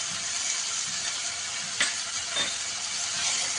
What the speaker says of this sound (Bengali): তিন চামচ মতো আদা রসুনের পেস্ট দিলাম আমি